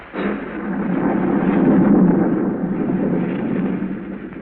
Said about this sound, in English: A storm rages wildly over the countryside.